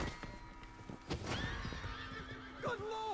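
A horse in Red Dead Redemption 2 gives loud, close whinnies with stamping hoof clops amid busy game noise.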